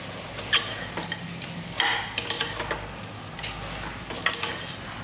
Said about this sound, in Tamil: எல்லாம் போட்டு நல்லா வதக்கிடலாம்.